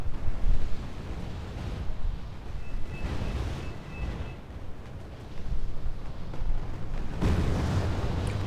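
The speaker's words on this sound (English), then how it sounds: "Ah, that was great bombs" Bombs landing in Wargame Red Dragon, a 3v3 battle: heavy, rumbling explosions swell and fade in several deep, broad booms spread over eight seconds, with a steady low roar between them.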